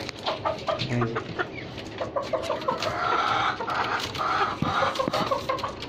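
Young caged desi roosters, about six months old, cluck and call in a farm pen, a busy mix of overlapping clucks and short cries at close range with no talking.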